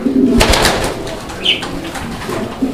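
A pair of Red Checker pigeons cooing close by, low throaty coos repeating several times, with a brief sharper call in the middle.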